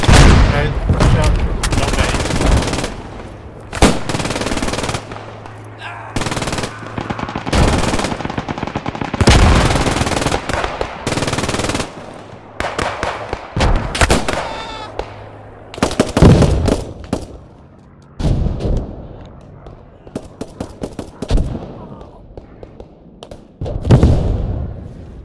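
Machine gun and rifle fire in the video game Squad 44, dense bursts and single shots crackling near and far over 25 seconds, with occasional thuds and brief gaps, and some voices speaking in between.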